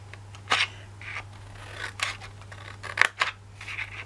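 Scissors cutting paper or card while making an Easter box, several separate sharp snips spaced through the clip, close and clear with no talk.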